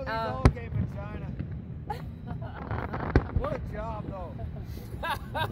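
Fireworks go off outdoors over a Labor Day weekend, several sharp bangs and crackling bursts at irregular intervals, moderately distant, while people talk throughout.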